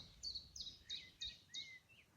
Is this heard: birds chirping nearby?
yes